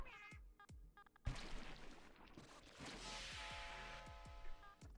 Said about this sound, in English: I've got a cat that wants me to pet him